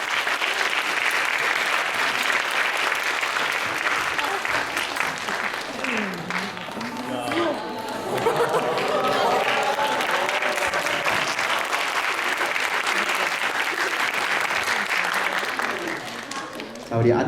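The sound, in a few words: audience applause in a chapel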